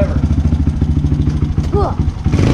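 A dirt bike engine runs in the rain with a rapid, throbbing putter that continues steadily and close by, while voices are heard briefly.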